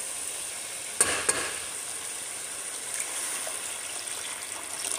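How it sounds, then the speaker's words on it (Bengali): Chicken curry sizzling in a pan as a little water is added to the fried spices, a steady close hiss with a couple of brief splashy bursts early on. "দিয়ে দিয়েছি পানি"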